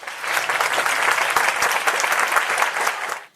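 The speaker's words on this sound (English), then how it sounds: "Round of applause, everybody." A short burst of dense, continuous applause, fairly loud and close, holding steady for about three seconds before fading out quickly.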